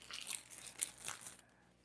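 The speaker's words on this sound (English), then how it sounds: "it's probably from me messing with the plastic bags" Plastic bags handled up close, sharp crinkling and crunching rustles for over a second before the sound drops off to near silence.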